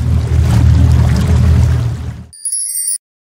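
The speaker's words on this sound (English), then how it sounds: "Motor boat." Motor boat running close with a loud, steady low engine rumble and churning water, lasting about two seconds before stopping suddenly, followed by a brief high tone.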